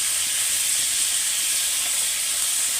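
Fish frying in hot oil in a pan, a steady bright sizzling hiss that holds even and continuous throughout, no talk.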